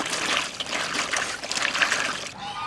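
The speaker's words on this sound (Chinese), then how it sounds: "地里的辣子上有可多泥了，往进洗一下" Muddy chili peppers freshly picked from the field are rinsed in water, giving a continuous close splashing and trickling with a soft dribbling sound that stops abruptly near the end.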